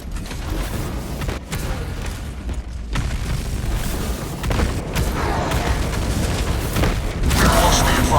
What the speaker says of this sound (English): Servo gun strike in progress.